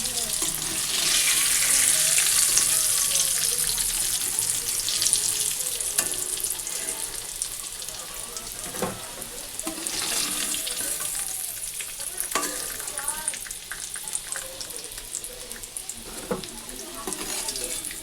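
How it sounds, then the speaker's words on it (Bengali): Potatoes fry in hot oil in a home kitchen, giving a steady, close broadband sizzle that holds throughout, with occasional stirring clinks and brief splashy bursts. "ওদিকে আলু ভাজা বসিয়ে দিয়েছি"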